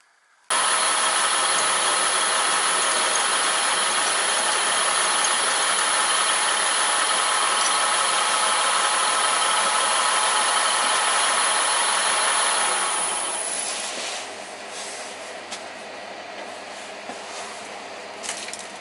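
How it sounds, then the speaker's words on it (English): A machine steadily cutting the side faces of paddle steamer engine connecting rods, a loud, continuous broadband roar that holds for about thirteen seconds and then drops to a quieter running hum with scattered knocks. "what we're doing here is machining what will be the side faces"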